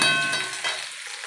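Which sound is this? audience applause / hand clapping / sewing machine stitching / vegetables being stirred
vegetables being stirred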